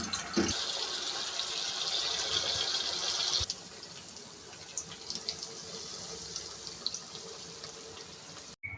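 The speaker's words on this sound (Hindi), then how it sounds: "अब मैं फ्राई कर रही हूँ। ऑयल मैंने गरम किया और फ्लेम को स्लो करके आप इसे फ्राई करेंगे।" Chatpata kebabs fry in hot oil on a small tawa over a low flame, a steady hissing sizzle that is loud for the first few seconds, then drops to a softer continuous crackle with scattered pops.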